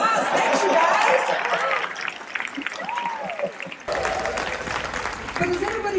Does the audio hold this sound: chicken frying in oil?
no